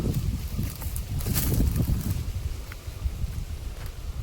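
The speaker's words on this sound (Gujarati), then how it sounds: "પવન છે એટલે અવાજ થોડોક ઓછો આવતો હોય છે." Gusts of wind buffet the microphone outdoors in a farm field, producing loud, uneven low rumbling that swells and dips, with faint rustling in the background.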